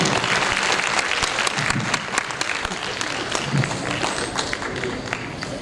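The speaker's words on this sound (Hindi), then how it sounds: "तालियों के साथ अभिनंदन, अभिवादन।" An audience at an award ceremony for a classical dance remembrance event in a hall claps steadily, a dense, loud, continuous wash of applause that holds evenly throughout.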